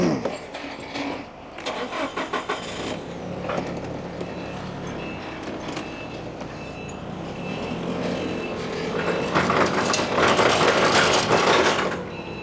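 A forklift engine cranks and catches, then settles into a steady mid-pitched idle that grows slightly louder and rougher toward the end, heard close with no talk over it.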